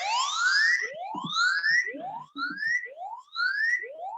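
A siren tone played from a phone repeats rising sweeps about every half second, fairly quiet and close, with a few soft handling noises between them.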